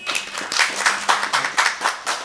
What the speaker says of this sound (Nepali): जोरदार ताली दिनु